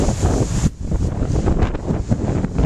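Strong, gusty wind roars across the microphone beside a creek swollen after flooding, loud and continuous with a short lull near the start, and no voices.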